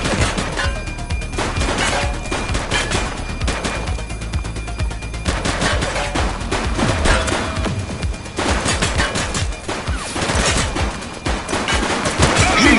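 Dense bursts of gunfire, with rapid automatic volleys and single shots overlapping, in the police video game The Precinct, loud and near throughout.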